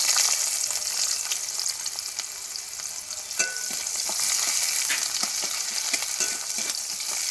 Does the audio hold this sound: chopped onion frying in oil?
yes